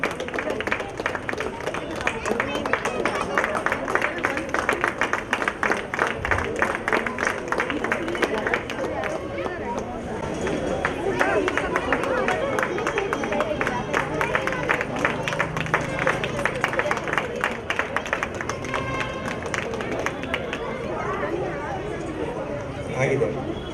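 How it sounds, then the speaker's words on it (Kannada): At a Rajyotsava 2024 prize distribution, an audience claps in continuous bursts, mixed with crowd chatter and an announcer's voice. "ಚಪ್ಪಾಳೆ."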